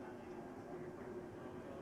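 A TTC M-1 subway train at Finch Station in Toronto gives a steady, even rumble with no breaks, heard alone at a moderate distance.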